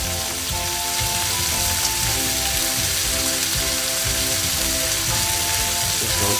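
Shredded cabbage sizzles and fries steadily in a hot wok, a dense, continuous crackling hiss with a faint tonal hum underneath, close and loud with no voices.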